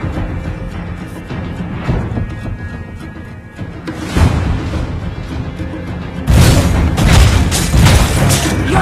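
A turret is destroyed in a mobile battle game, giving deep booming blasts that build from a rumble into a loud, sustained crash in the final seconds, set against game sounds.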